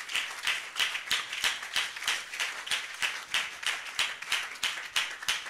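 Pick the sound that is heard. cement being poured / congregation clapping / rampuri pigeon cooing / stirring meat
congregation clapping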